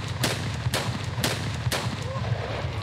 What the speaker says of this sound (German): Strutzmann down mit 4 Schuss.